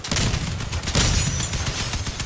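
Rapid bursts of machine gun fire in the vehicle combat game Crossout, loud and close with dense rattling volleys and heavy booming impacts throughout.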